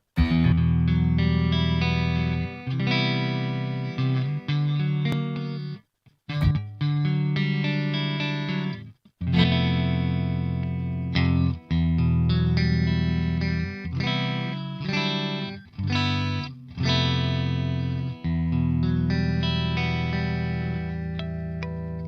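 Electric guitar with single-coil pickups played through a Revv Generator 120 Mk3 amplifier, a loud, continuous run of distorted, effects-laden chords and notes with a few brief gaps, no talking.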